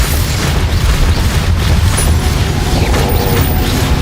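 A Confringo fire spell bursts in Hogwarts Legacy amid dense, booming combat noise, with rumbling impacts and crackling layered continuously and loudly throughout.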